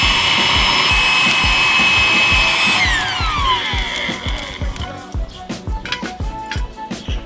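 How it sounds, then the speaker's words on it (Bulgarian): Electric blower whirring hard to fan charcoal embers in an outdoor grill, a loud steady whine that winds down partway through, leaving uneven bursts of air and clattering as the fire settles. "просто взимаме духалката."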